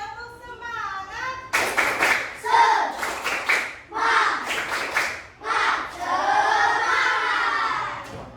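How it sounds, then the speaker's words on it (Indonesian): Schoolchildren in a classroom do a patterned group spirit clap, a teacher's voice leading before sharp rhythmic clusters of claps burst out, interleaved with loud chanting and shouting from the class. "Tepuk semangat."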